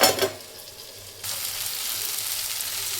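Ridge gourd sizzles as it cooks in a pan, a steady broadband frying hiss that jumps louder partway through and then holds, close and continuous with no voices.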